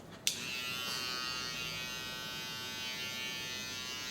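Electric hair clippers switch on with a sharp click and then hum in a steady, close buzz while cutting hair for a low skin fade, with no talking over it.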